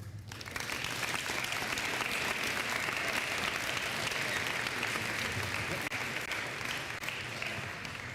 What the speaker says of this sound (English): Let's give one more round of applause for our GOATs